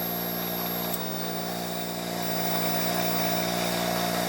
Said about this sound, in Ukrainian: І двигун набрав оберти, як ви чуєте, і споживання